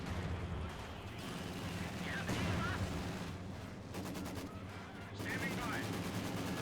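Rapid bursts of automatic gunfire from a half-track's anti-air gun crackle through a Company of Heroes 2 battle on Moscow Outskirts, with the heaviest stuttering volleys near the end over steady battlefield rumble.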